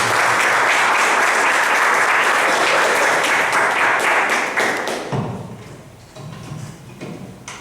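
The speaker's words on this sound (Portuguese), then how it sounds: "Salve de palmas." A church congregation claps steadily in dense, loud applause for about five seconds, then the clapping thins and fades into scattered claps and room noise.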